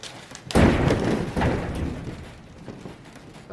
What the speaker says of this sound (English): That'll be the door closing.